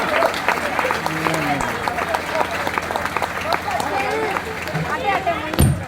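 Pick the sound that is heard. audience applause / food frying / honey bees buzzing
audience applause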